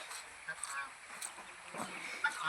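Ducks and their ducklings call out on a rainy morning, soft quacks and honks scattered over steady rain hiss, fairly faint and at a distance.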